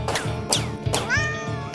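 A cartoon cat in a video game lets out several loud, close, drawn-out meows and a pained yowl after being struck, with almost no speech around them.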